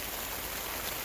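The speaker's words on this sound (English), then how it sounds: "anyhow, listen to that rain." Rain drumming on the plastic covering of a cattle panel greenhouse about 8 by 16 feet, a dense, even hiss filling the whole moment with no voices.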